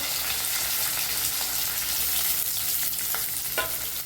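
Cumin seeds, crushed garlic and long-cut green chillies frying in a pan, a loud, dense, continuous sizzle and crackle up close, with a few light stirring scrapes.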